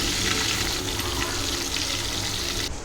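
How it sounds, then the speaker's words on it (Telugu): Paneer pieces fry in oil in a pan, a dense, steady sizzle that hisses close up and unbroken for the few seconds before it cuts off. "పన్నీర్ ముక్కలు వేయించుకోవాలి ఫ్రెండ్స్."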